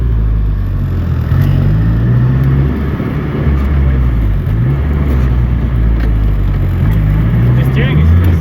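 Turbocharged SR20-powered Datsun 510 driving on the road, a loud steady engine drone with rising and falling revs through the gears, heard from inside the car, with people talking over it.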